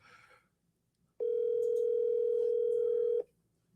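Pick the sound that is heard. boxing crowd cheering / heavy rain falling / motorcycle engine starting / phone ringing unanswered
phone ringing unanswered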